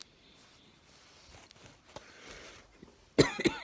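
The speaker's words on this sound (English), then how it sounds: "I still have that coughing in my chest" Quiet background, then a couple of sharp, close chest coughs from a person with asthma near the end, one after another.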